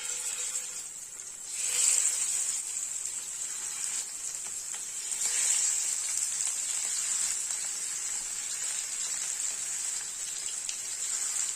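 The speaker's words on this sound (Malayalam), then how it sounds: "ഈ എണ്ണ ചൂടായിട്ടുണ്ട്. ഇതിലേക്ക് നമുക്ക് മത്തി വെച്ച് കൊടുക്കാം." Sardines sizzle in hot coconut oil in a pan for Kerala-style mathi fry, a bright, continuous crackling hiss that swells twice as the fish go in, then settles to a steady fry.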